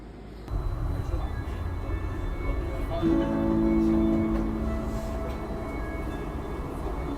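A Bergen Bybanen Line 1 light rail tram rumbles along, then rises into a steady electric whine with sustained tones after a few seconds, continuous and fairly close, as heard by someone riding on board.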